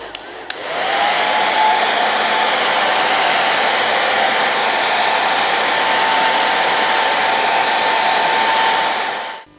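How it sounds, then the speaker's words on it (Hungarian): Hair dryer on its high setting blowing damp sand off basalt caps, switching on with a click and then a steady loud whooshing roar that holds for several seconds before cutting off, with no voices. "Először próbáljuk meg hajszárítónak a magas fokozatával lefújni a bazalt csapkákról a kőzeteket"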